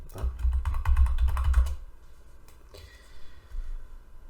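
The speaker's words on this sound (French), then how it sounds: "Je tape donc dans Google modèle Free Facture" Rapid clicking of keys on a computer keyboard, close and fairly loud for a couple of seconds, then a few sparse taps and quiet room noise.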